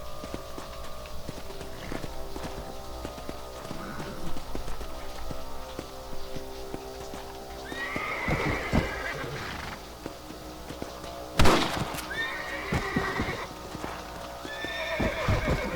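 Horse hooves clip-clop steadily in Red Dead Redemption, with several loud neighs and whinnies breaking through around the middle and end, plus a sharp bang near the twelve-second mark.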